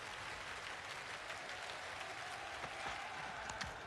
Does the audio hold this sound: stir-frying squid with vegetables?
no